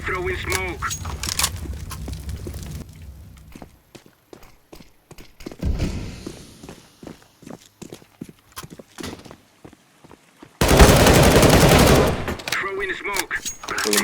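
Gunfire in Counter-Strike: Global Offensive, heard as a burst of sharp shots among clattering in-game sounds, followed by a loud, dense blast near the end.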